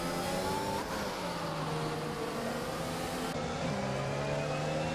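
Race car engines in a sim racing replay drone steadily at high revs as two cars run nose to tail, with layered engine tones that shift in pitch together and continuous loud whine, no talk.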